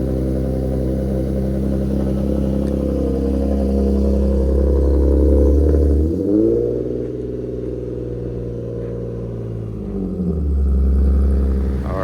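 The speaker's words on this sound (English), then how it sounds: "Try to rev it." A Nissan VQ37 engine, just replaced, idles loudly, then revs up sharply to a higher, steady pitch held for several seconds before dropping back to idle.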